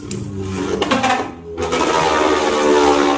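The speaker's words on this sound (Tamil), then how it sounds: "பிரேவ் வால்ட்ரியக் ஆக்சுவலாக அவேக்கன் ஆகியிருக்கான், அதனால தான் இப்படி சுற்றிக்கிட்டு இருக்கான்." A Brave Valtryek Beyblade whirs steadily in a plastic stadium after launch, a continuous close buzzing spin with brief scraping bursts.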